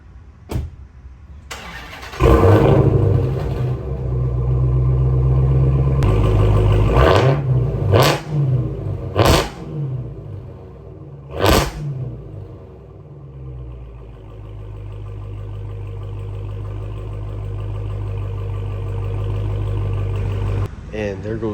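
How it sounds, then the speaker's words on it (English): A 2021 Dodge Charger Hellcat Redeye with a Dynomax Race Bullet mid muffler delete cold-starts with a loud bark, then gives several sharp revs before settling into a deep, steady idle up close. "And there goes the cold start and a couple revs."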